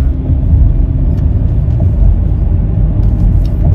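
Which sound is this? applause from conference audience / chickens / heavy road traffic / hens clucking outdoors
heavy road traffic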